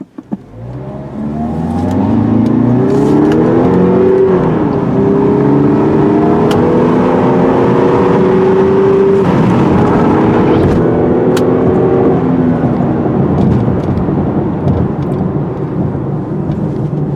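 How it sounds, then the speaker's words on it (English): A 2017 Lexus NX200t engine pulls steadily under acceleration while driving, a loud, smooth rising drone with climbing harmonics that levels off and holds, no voices over it. "This is a very smooth, healthy engine,"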